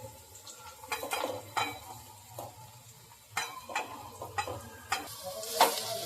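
Fus bhaji greens being tossed into a hot pan and stirred, with repeated metallic scrapes and clanks of the spatula over a soft sizzle, close and uneven in rhythm, with no talk.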